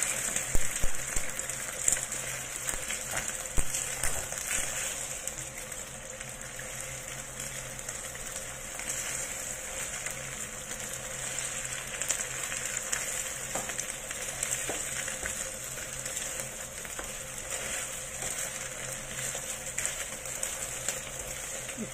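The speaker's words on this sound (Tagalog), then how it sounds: "I-fry lang natin yan hanggang sa maging brown." Egg and tomato fry in a pan with a steady, even sizzle and crackle that runs unbroken throughout, close and moderately loud, with no talk.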